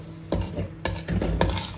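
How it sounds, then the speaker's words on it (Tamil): Spicy brinjal thokku with curry leaves being stirred in a pan, with three distinct scraping strokes of a spoon against the pan over a steady faint sizzle, close and alone. "கருவேப்பிலை இப்போ தூவி அடி மெதுவாக, ரொம்ப கிண்டிங்கனாலும் கத்திரிக்காய் உடஞ்சிட போகுது."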